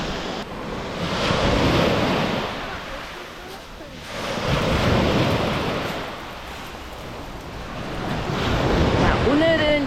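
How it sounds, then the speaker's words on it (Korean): Ocean waves surge and crash in slow repeating swells on Jeongja Beach in Ulsan, with wind buffeting the microphone throughout. "파도 소리 들리시나요?"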